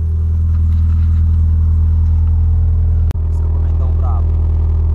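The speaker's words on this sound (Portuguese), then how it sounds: "Vou mostrar ali o escapamentão pra vocês," An alcohol-fuelled VW Polo with a JK sports exhaust idles close by in a deep, steady rumble, loud and constant, broken by one brief click partway through.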